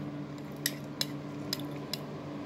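A spoon stirs dyed marshmallows into cream, giving four soft, evenly spaced clinks against the bowl over a low, quiet background hum.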